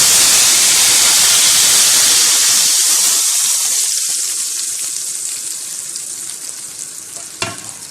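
Loud hissing sizzle as hot tempering hits red lentil dal, bursting strongly at first then gradually dying down, with a brief clink near the end.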